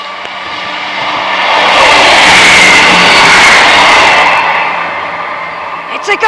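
A train approaches and rushes past in a broad roar that builds, peaks for a few seconds, then fades away, with some voices faintly underneath.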